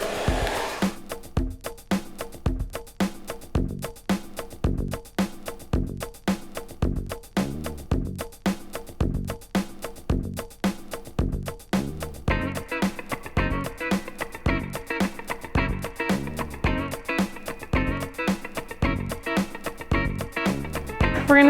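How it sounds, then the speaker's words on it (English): A hair dryer runs steadily while drying a boy's hair before a pompadour haircut, its continuous whir pulsing rhythmically as it is moved, fairly close and without talk. "So I'm going to take the dryer and dry this so that I can use the clippers on it."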